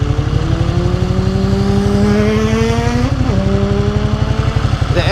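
A Ducati Panigale motorcycle engine revs loud and close, its pulsing low growl climbing in pitch, dropping briefly near the middle, then rising again.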